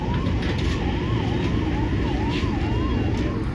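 A police siren, on an Innova Crysta on a highway on the way to Mumbai, wails steadily with a rising and falling tone over constant loud traffic and engine rumble.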